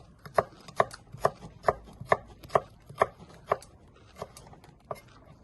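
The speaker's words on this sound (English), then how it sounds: "And then we're gonna start doing juliennes. Same again. Slice it through, nice even slices." A knife chops vegetables into julienne strips on a cutting board for chicken fried rice, about ten crisp, evenly spaced thunks close up, with a short pause before the last few cuts.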